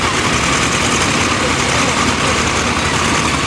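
An older restored 1966 diesel tractor engine runs at a steady idle, a loud, dense, continuous rumble close by at a show in Madison, South Dakota.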